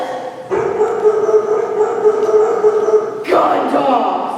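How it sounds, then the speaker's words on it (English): Dog barking played as a sound effect during a stage play performance, a burst of yips and barks rising loud after a quiet start and continuing steadily, with a second louder surge near the end. "Gun dogs!"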